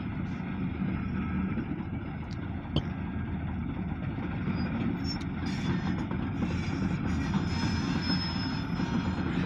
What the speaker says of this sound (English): We have a very short push and pull grain hopper train.